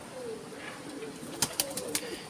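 Soft low pigeon cooing murmurs through the first half, followed by a few sharp clicks or wing flaps near the end.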